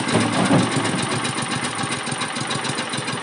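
A Kaan 29 S tiller (hoe) engine running steadily nearby, a loud buzzing small-engine drone with a fast rhythmic pulse and no pauses.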